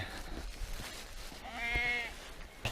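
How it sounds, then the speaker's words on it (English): A group of goats and one sheep at feeding time, with a wavering nasal bleat rising out of a murky background of farm noise, close and moderately loud, no talking. "a looks group like. of goats and one sheep trying to eat right now"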